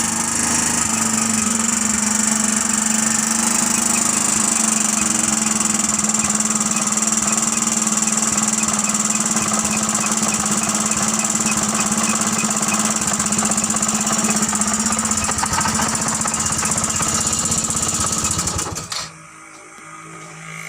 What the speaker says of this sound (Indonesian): Suaranya masih tetap suara motor.